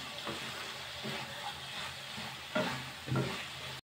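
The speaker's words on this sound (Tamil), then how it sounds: "சோயா உள்ளே சேர்த்துடலாம். ஊற வச்சு சோயா நல்லா மிக்ஸ் பண்ணிடலாம்." Soaked soya chunks being stirred into a sizzling tomato masala for biryani, with a spoon scraping steadily through the frying mixture and a couple of louder scrapes near the end, close and alone.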